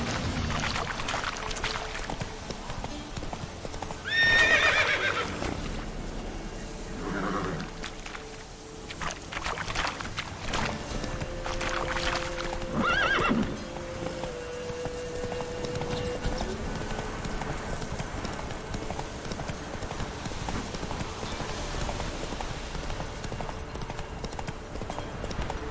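Hooves clip-clop steadily from Roach, the horse in The Witcher 3, with brief whinny-like bursts and splashy rustles over a game soundtrack; no voices.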